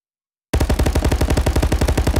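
Rapid automatic gunfire in Call of Duty VR, a fast, evenly spaced burst of loud shots that starts abruptly after a short silence and keeps going without a break.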